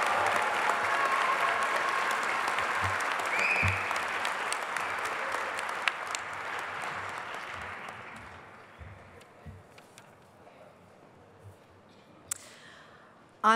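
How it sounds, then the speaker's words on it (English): Audience applause at an evening graduation ceremony honoring education program graduates, a sustained round of clapping that gradually fades out, with scattered isolated claps near the end. "One final round of applause for our education program graduates"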